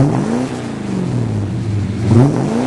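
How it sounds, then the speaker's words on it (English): A 1965 Barracuda V8 fitted with Magnaflow mufflers revs up and back down in two swells, a deep throaty exhaust roar rising and falling up close, loud and steady without talk. "Go ahead, rev it again, Jerry."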